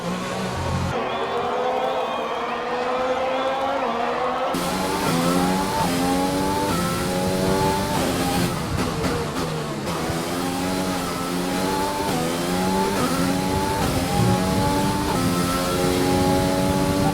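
Race cars accelerating in the F1 2020 video game at the Canadian Grand Prix, a steady high-pitched engine whine rising and falling through gear changes, continuous and loud with no talk.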